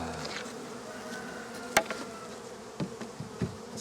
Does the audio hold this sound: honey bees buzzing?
yes